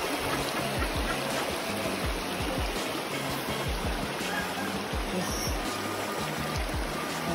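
River water rushes steadily along a waterfall hiking trail in Choiseul, a constant close wash of flowing water with no voices over it.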